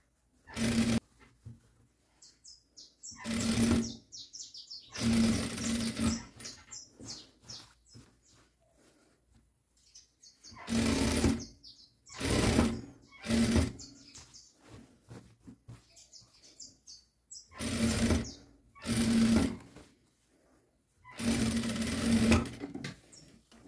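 Sewing machine stitching bias binding onto a stretched elastic waistband of a child's high-waisted shorts, loud bursts of rapid stitching in several runs separated by pauses, close to the listener.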